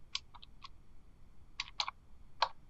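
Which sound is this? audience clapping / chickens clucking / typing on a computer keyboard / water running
typing on a computer keyboard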